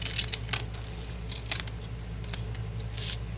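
Scissors trim a sheet of paper for journal cards, making a run of crisp, close snips at an uneven rhythm over a quiet room hum.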